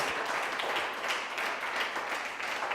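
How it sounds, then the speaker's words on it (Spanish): Dense, continuous applause from a large crowd fills the whole stretch, steady and loud with no pauses. "Den un aplauso a él."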